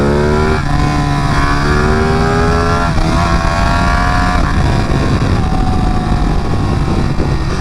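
A Ducati Panigale 959 sport motorcycle is ridden hard through twisty roads, its loud engine rising and falling through several revving pulls and gear changes, close and continuous without speech.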